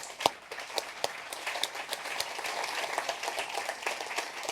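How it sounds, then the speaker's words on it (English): A seated audience at an architecture talk applauds, with dense, fairly soft clapping carrying steadily and a few sharper individual claps standing out. "Please give another big round of applause to Junya Ishigami."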